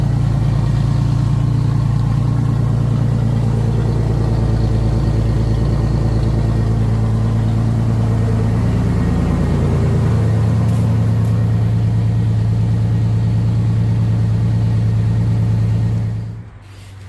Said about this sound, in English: this thing idles a lot better